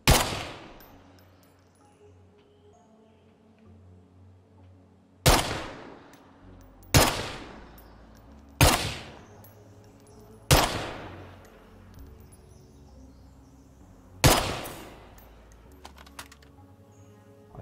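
Rifle gunfire in State of Decay 2, heard as five sharp, loud single shots spaced one to four seconds apart, each decaying quickly over a quiet low hum.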